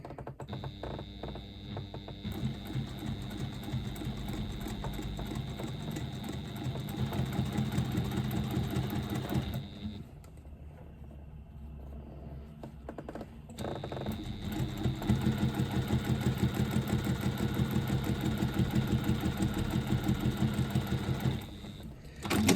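Sewing machine top stitching the parts of a twist pouch, close and steady whirring stitch runs with a brief pause near the middle before a second, slightly louder run; no speech.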